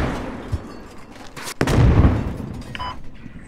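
Gunfire and a heavy boom in Squad on the Al Basrah map: a few scattered shots early, then a loud blast around the midpoint with rumbling decay, followed by fainter distant pops.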